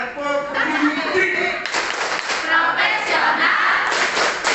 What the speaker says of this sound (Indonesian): tepuk semangat, tepuk pendidik